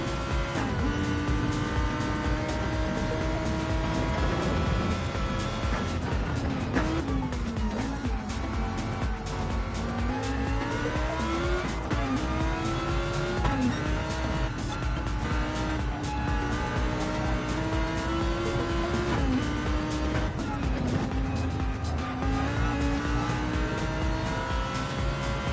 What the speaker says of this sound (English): a quiet onboard lap where you can just hear the roar of the V10